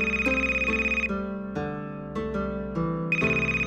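A phone ringtone repeats a bright electronic melody in a steady looping pattern, close and loud with no voices.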